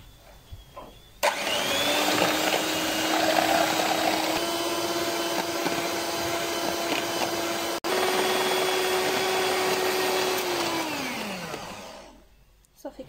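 An electric mixer whips cream for a mini cake filling, its motor holding a steady whirring hum with a fixed tone before spinning down and stopping near the end.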